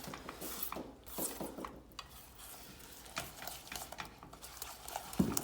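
A lime, sugar and egg filling being mixed by hand in a bowl makes close, irregular scraping and stirring strokes with soft clinks, fairly quiet and with no voice.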